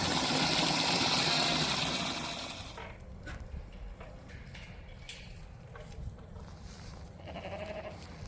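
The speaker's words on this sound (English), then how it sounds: "the goats made the sheep wait their turn." Goats and sheep on a farm, a loud close burst of bleating and jostling noise at the start that fades into quieter barnyard shuffling and occasional distant calls.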